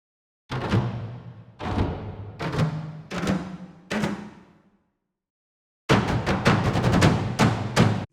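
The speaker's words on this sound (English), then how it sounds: "It's a small drum top driver patch." Deep drum hits ring out one at a time with long decays, then a quick burst of rapid strikes closes the passage.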